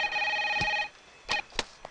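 A telephone rings with a bright electronic trill that sounds once and cuts off, followed by a few faint clicks and handling thumps as the receiver is picked up.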